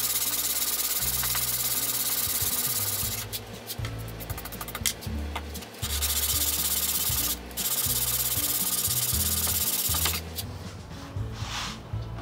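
Metal body of an old hand plane rubbed back and forth on sandpaper in a workshop, progressing through grits; steady, close scraping strokes repeat continuously with brief pauses, no talking.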